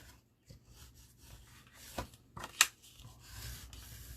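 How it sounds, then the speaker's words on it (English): Paper pages of a toilet roll minibook are folded and burnished, making soft, close rubbing and scraping strokes with a few sharper crisp creases, quiet and irregular with no talk. "make my 3 pages by simply folding and burnishing"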